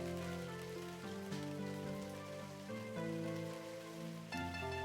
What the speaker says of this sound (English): The irregular sound of water striking the pavement thrums inside my earlobes.